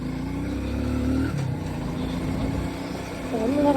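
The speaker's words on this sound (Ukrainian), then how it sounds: "Зажимаємо щеплення і нажимаємо кнопочку стартера" A motorcycle engine, clutch held in and started with the starter button, runs with a rough steady drone and rises slightly as it revs near the end.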